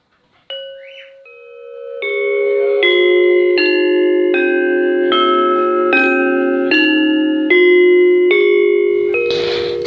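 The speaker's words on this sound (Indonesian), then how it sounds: "Berikut adalah contoh bunyi dari demung." A Central Javanese gamelan demung, a bronze metallophone, is struck note by note in a steady descending-then-rising sequence, each ringing tone sustaining and overlapping the next, loud and close with no voices.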